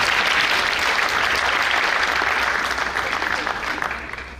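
Steady applause from a gathered crowd at a Balram Jayanti event, honoring the women's group; dense, continuous clapping that carries evenly throughout and tapers slightly at the end.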